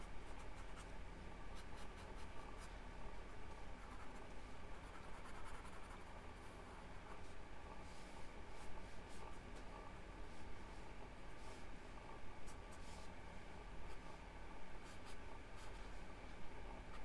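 A pencil sketches lines on paper in soft, scratchy strokes, steady and repeated over a faint background hiss.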